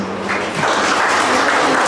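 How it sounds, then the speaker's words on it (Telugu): Audience applause at a community meeting held during a Lions Club free meal distribution, a steady, dense clapping that swells slightly after a moment and continues evenly for the whole two seconds. "మేడం బాగా చప్పట్లు పండి"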